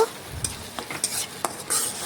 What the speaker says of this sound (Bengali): এখন সমস্ত কিছু ভালোভাবে একসাথে নাড়াচাড়া করে দেখুন আমি মিশিয়ে নেব